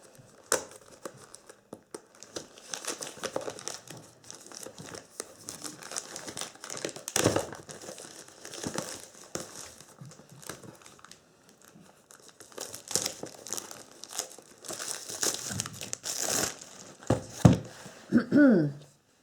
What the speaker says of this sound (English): Let's get out the scissors.